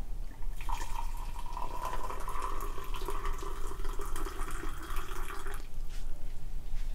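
Hot water streams into a 16-ounce glass holding green tea powder for grass jelly green tea, a steady close pour lasting about five seconds whose ringing tone shifts as the glass fills, then stops.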